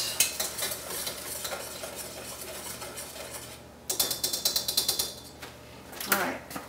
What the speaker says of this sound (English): Next I'm going to add the nuts to it.